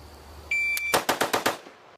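Five sharp gunshots fired in a rapid burst at a shooting range, evenly spaced and loud, preceded by a brief electronic timer beep, with no talking.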